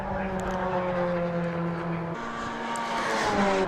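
A Fun Cup race car laps Silverstone circuit through Cox Corner during a four-hour endurance race, its engine droning steadily at moderate distance, the pitch dropping and shifting as it passes.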